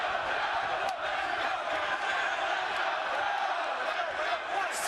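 Wrestling arena crowd at a TNA match cheering and roaring continuously, a broad, distant wash of many voices with occasional whoops rising out of it.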